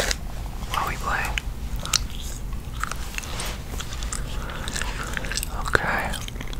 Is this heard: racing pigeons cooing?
no